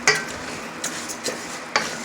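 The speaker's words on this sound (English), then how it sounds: "I have the rice on, and I have it in the 6 teaspoons of olive oil" Rice toasting dry in olive oil in a pan, with a soft steady sizzle and a few sharp clicks of a spoon stirring against the pot.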